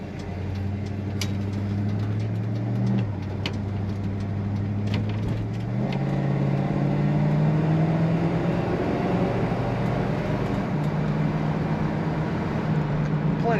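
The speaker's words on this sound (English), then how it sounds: "Plenty of power to pull this convertible along. Nice throttle response and smooth acceleration from this Dodge Coronet." A 1967 Dodge Coronet 500 convertible with an automatic transmission accelerates from inside the cabin, its engine hum rising and stepping through shifts as a steady, moderately loud drone.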